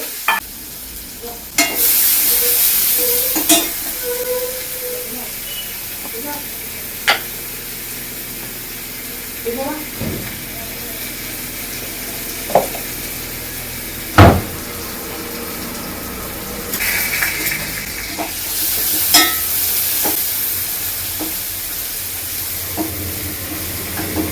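Mustard seeds, onion and shallots hit hot oil in a home kitchen pan, a steady sizzle with sharp popping crackles and occasional stirring scrapes, close and loud.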